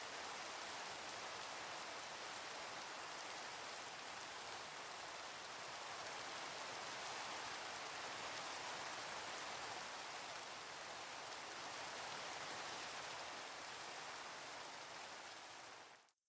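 Steady, even rain falls at night in the video game Minecraft, a soft continuous hiss that holds throughout and fades out at the very end.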